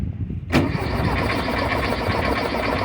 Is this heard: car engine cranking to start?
yes